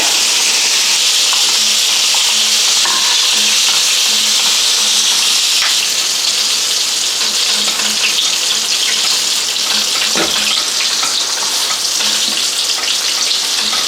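A vinegar-based sauce for orange chicken boils and sizzles steadily in a pan, a loud, continuous hiss with no talking.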